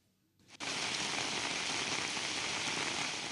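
Steady, heavy rain starts abruptly after a brief quiet moment and keeps pouring in a dense, even hiss, close by.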